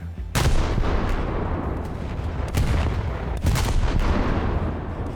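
Naval gunfire from the HMS Tiger C20 cruiser in War Thunder, shooting at a distant destroyer: a heavy boom opens, then several more loud blasts roll out over a constant rumbling battle din.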